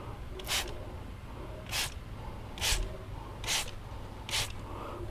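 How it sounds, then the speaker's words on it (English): Gyeon Iron wheel cleaner sprayed from a trigger bottle onto a wheel in five short, crisp hissing bursts about a second apart, close and fairly loud against a quiet background. "more per spray comes out with the Gyeon"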